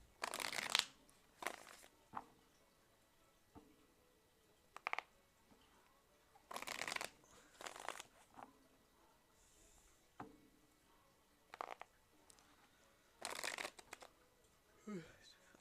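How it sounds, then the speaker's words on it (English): Tarot cards are shuffled in repeated short riffling bursts with quiet pauses between them, close and fairly soft, and a voice speaks at times. "I'm kind of done shuffling here"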